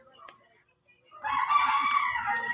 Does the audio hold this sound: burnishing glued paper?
no